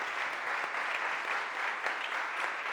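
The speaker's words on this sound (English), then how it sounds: "Please give our Council President another round of applause." Sustained audience applause at a city budget press conference, a steady dense wash of clapping with no voices, continuous and fairly even throughout.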